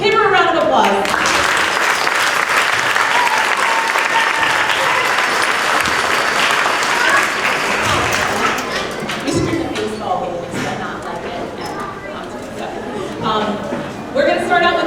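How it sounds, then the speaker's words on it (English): Warm applause from a school spring concert audience in an elementary school setting greets a guest string player, dense clapping filling the room and gradually thinning out as a voice begins speaking over the fading claps. "Give her a round of applause."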